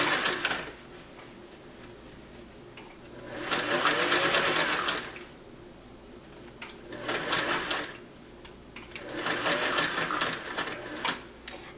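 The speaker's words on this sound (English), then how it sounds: "I can only sew about an inch or so at a time before I have to rearrange my bias tape" A sewing machine stitches a pant inseam with bias tape in short bursts, three runs of steady whirring separated by pauses, close up with no talk.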